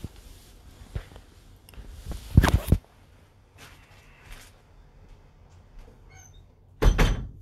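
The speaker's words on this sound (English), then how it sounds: "I'm also going to be shutting my door." A bedroom door pushed shut at home, giving a couple of close, solid thunks and a rattle around the two-to-three second mark, then another firm knock near the end, with quiet room tone between and no talking.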